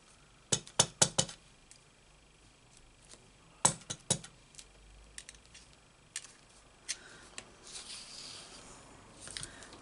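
Glass nail varnish bottles clink as they are picked up and handled, producing quiet, sharp taps in small clusters with gaps of near silence between them.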